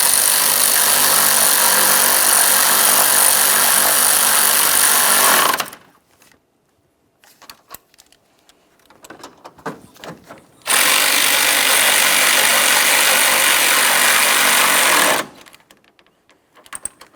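A power tool snugging 10mm mounting bolts on a radiator cooling fan of a 2012-2015 Honda Civic 1.8L I4 runs in two steady, loud bursts of several seconds each, separated by a quiet pause with faint handling noises and no talk.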